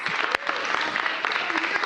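Applause from a morning gathering launching a young women's leadership program in Washington, D.C., a dense steady patter of many hands filling the short stretch, with a faint voice briefly underneath.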